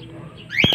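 A young racing pigeon gives a few quick, close chirps and coos in a short burst at the end, after a quiet lead-in.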